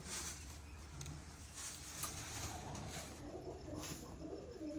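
A handsome pigeon coos in low, repeated throaty calls at close range over a steady background hiss, with no voices.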